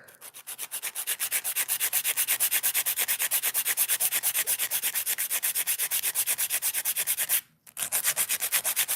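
A coarse 80/80 grit hand file rubs across fingernails in fast, steady back-and-forth strokes, loud and close, with a brief pause near the end before the filing resumes.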